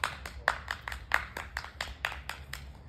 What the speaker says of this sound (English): Please, everyone, continue to cheer, clap.